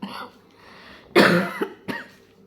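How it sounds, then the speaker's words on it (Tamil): Two harsh coughs close to the listener, one strong and a shorter one after a brief pause. "உடம்பு சரியில்லை அதனால இருமல்"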